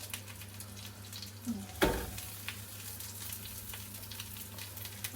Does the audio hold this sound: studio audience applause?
no